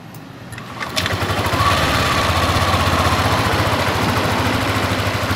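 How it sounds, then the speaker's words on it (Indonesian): A Yamaha Aerox 155 scooter engine, after a valve adjustment, starts up and settles into a steady, close, even idle with a rapid buzzing rhythm. "Motor jadi halus kembali. Coba kita tes."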